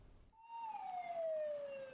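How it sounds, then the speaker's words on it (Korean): A fire truck siren wails in a narrow market alley, one long gliding tone that starts abruptly and slowly falls in pitch, heard alone and fairly clear. "소방차가 비좁은 시장 골목을 힘겹게 통과합니다."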